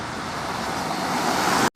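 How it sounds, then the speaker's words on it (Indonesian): A bus overtakes a truck on a road after a brief rain shower, giving a steady, loud broadband rumble of tyres and engines that holds at one level and cuts off abruptly. "langsung bus alam merahnya overtake truk di depan teman-teman"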